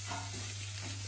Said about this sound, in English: The rice is frying up nicely